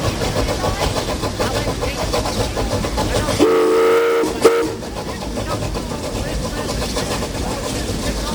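A narrow-gauge Tweetsie train of the East Tennessee and Western North Carolina Railroad rumbles steadily in the Blue Ridge Mountains, sounding one whistle blast of about a second midway, with a voice speaking over it.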